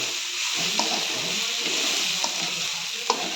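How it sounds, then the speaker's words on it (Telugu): Semolina (rava) is dry-roasted and stirred in a pan for upma, giving a steady close sizzle with occasional light clicks of the spoon against the pan. "ఇట్లా బాగా వేయించుకోవాలి గైస్."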